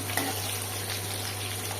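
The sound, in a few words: onions frying in oil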